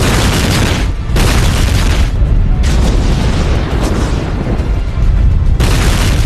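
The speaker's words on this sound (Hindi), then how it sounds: "रूस अब यूक्रेन पर हर तरफ से बमबारी कर रहा है।" Bomb explosions in the war-torn city of Mariupol, Ukraine, roll out as heavy booms in a few separate bursts, each with a long rumbling tail that fills the space between blasts, loud and without any talk.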